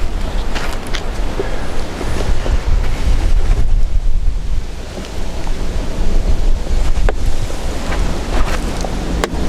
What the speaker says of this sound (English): The wind's blowing that exactly right to you.